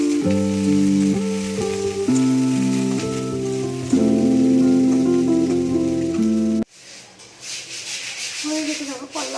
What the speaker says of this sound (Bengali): এখানে করলা ভাজা করব